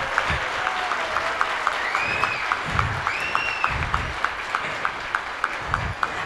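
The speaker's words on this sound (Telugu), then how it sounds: "మీరందరూ కూడా అలా ఫీల్ అయితే ఒకసారి న్యూటన్ గారికి గట్టిగా చప్పట్లు కొట్టండి" A hall audience at a 50th birthday celebration claps for Newton, steady dense applause with a faint regular beat of rhythmic clapping and occasional low thumps, loud and continuous.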